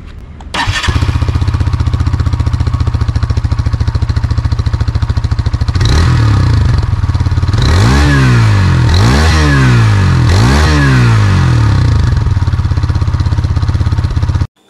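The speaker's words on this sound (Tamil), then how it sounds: "இப்போ இந்த வண்டியோடைய சைலன்சர் சவுண்ட் எப்படி இருக்கு அப்படிங்கறத கேட்போம் வாங்க" A Hero Xtreme 160R 4V motorcycle engine idles with a deep, loud exhaust rumble, then revs sharply three times in quick succession before settling back to idle.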